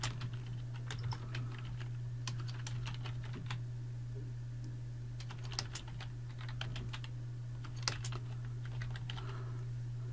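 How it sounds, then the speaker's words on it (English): Someone types on a computer keyboard while coding. Quiet, irregular clusters of key clicks sound over a constant low electrical hum, with no voices. "And then I'm going to type light slash forward slash"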